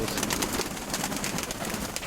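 Pigeons cooing at a pigeon loft, a soft continuous murmur of overlapping coos from several birds nearby for about two seconds, with no voices over it.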